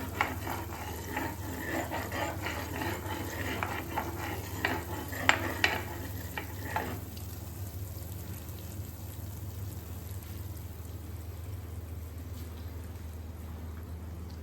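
Gulab jamun frying in a pan of fat and being stirred, with a steady sizzle and scraping stir noises over the first seven seconds, then a quieter, even frying hiss with no talk.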